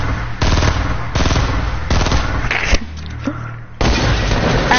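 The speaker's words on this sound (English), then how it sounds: "how to shoot everywhere at once" Rapid automatic gunfire from a Fortnite match, loud and close, coming in several sustained bursts separated by short pauses, with booming shots mixed in.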